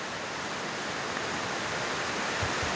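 Steady broadband rushing of a waterfall in Welsh woodland at Dolmelynllyn, continuous and fairly close, with no voices.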